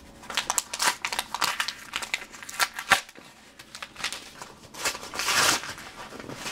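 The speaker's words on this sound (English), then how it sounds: "Let's see if I can rip into here." Crinkly foil wrapper of a Pokemon card pack being torn open, a string of sharp crackling rips and rustles close by, alone without talk.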